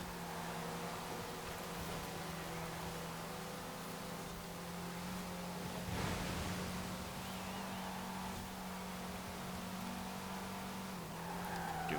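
An all-wheel-drive Lancia rally car in Forza Horizon 4 accelerates hard out of a corner, its engine droning steadily with tire noise and a brief surge midway, fairly quiet and with no talking.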